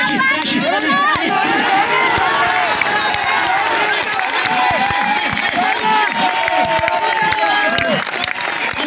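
Crowd at an outdoor kabaddi match between village teams in Punjab, with steady applause and cheering filling the scene, loud and continuous, while a commentator's voice carries over the noise.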